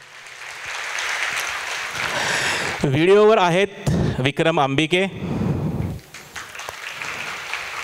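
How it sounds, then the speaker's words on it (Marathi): A crowd at a Marathi stage event applauds the crew, broad clapping filling the background while an anchor speaks loudly over it, then continuing alone. "हेमंत उत्तेकरांकरता जोरदार टाळ्या वाजवा"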